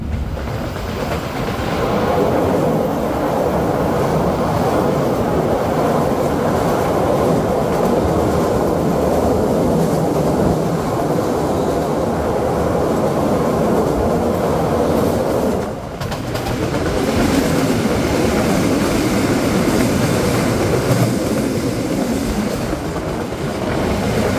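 A Jakarta–Jogja passenger train runs along double track in Indonesia, producing a loud, sustained rumble of wheels and cars with rhythmic clatter and a brief dip in level partway through.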